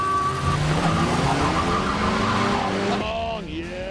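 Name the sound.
1.5-litre diesel car racing a 3.9-litre V8 car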